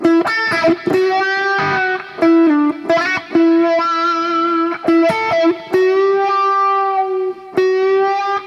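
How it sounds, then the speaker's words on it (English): An electric guitar riff played through a Crybaby wah pedal, the tone sweeping between muffled and bright with a vocal, quacking quality and a mid-range boost, loud and continuous. "Now if we add a crybaby to it, it sounds like this."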